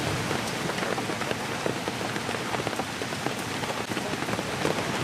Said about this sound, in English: It hasn't stopped raining all morning.